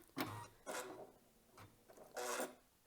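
Embroidery machine running a single stitch, a few short rasping mechanical bursts with brief pauses between, close but quiet.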